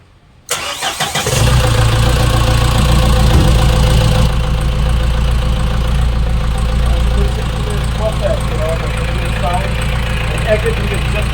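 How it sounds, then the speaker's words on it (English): A Mahindra MM 550 Jeep fitted with a CRDE diesel engine cranks briefly, catches and settles into a steady, loud, close-up idle that rumbles evenly for several seconds. "So I'm going to start the engine and show it to you."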